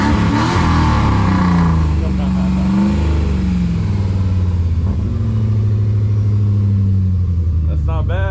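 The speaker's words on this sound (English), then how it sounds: "All right, so we're driving it" A Jeep WJ with a newly replaced rear A-arm drives along, its engine droning loudly and rising as it accelerates, with voices talking over it.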